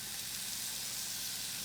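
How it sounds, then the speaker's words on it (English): Hamburger meat searing in a hot cast iron pan gives a continuous loud, close sizzle with a bright hiss throughout, no speech over it. "So it gets nice and hot so that when the meat hits it, it sears right away. You can hear it."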